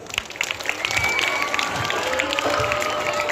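Applause from a crowd of students and guests at a school prize distribution, clapping that swells and holds steady, with faint cheering mixed in.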